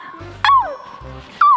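A small dog gives two short yips or whimpering barks, close and fairly loud, separated by a pause, with no talking.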